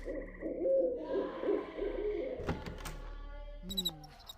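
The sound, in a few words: loud birds hooting in The Dark Mod video game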